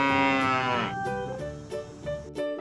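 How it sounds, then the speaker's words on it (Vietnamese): A cow gives one long, loud, drawn-out moo that slides downward, then trails off into lower, weaker lowing with a few small clicks, heard alone and close. "Con bò kêu thế nào?"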